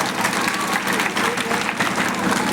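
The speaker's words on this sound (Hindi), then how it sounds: "एक बार जोरदार तालियां बजाकर आप सब मुझे इजाजत दीजिए। तालियां कमजोर है भाई, जोरदार तालियां।" Loud, dense applause from a village audience gathered for an Independence Day speech, steady clapping filling the whole stretch without a pause.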